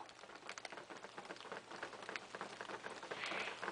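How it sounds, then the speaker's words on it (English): Steady patter of melting snow dripping off a roof onto a hard surface, dense and continuous like light rain, close by with no voices. "This is the sound of snow melting off of our roof."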